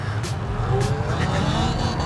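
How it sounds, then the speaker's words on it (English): Talaria XXX electric dirt bike pulling away hard into a wheelie, a steady near whine with rising tonal sweeps over constant road noise, brief and continuous. "When this light turns green, I'm hitting my first wheelie on this."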